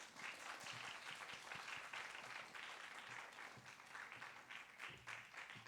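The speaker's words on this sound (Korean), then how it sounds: "여러분 박수로 축복해 주세요" Soft, distant applause from a church congregation during a worship service new-member graduation, many hands clapping in a steady, slightly uneven patter with a few faint low thumps mixed in.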